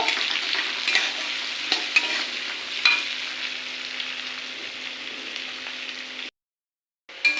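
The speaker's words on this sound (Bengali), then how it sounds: "পেঁয়াজটা ভালো করে নেড়ে ফেড়ে একটু লাল লাল করে নেব" Onion stirred and fried in a pan gives a bright, steady sizzle with occasional utensil taps. It cuts to silence briefly before the frying returns at the end.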